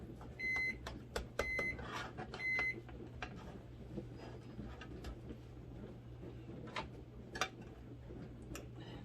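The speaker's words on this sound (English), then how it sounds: "The microwave is beeping because that's Jeremy's dinner." A kitchen microwave oven gives three short, evenly spaced beeps near the start, heard over a steady low hum and soft clinks of cooking; no one talks.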